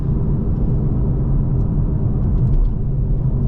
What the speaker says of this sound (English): just another opportunity for me to use the rev matching downshifts here, which are just so smooth.